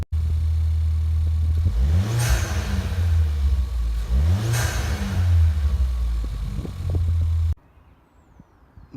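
A Ford Fiesta ST engine fitted with an ITG induction kit revs hard twice, rising to a roaring peak and falling back, with a loud throaty intake sound, then cuts to near silence.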